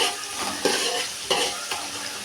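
Tomatoes and onions sautéing with salt in a pan for fish curry, a steady close sizzle with a few soft stirring scrapes and no talking.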